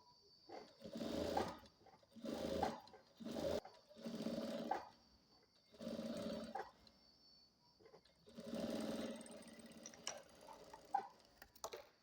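A four-thread overlock sewing machine stitches a tracksuit sleeve in about seven short whirring bursts separated by brief pauses. The clicks and handling noises between runs are close and clear.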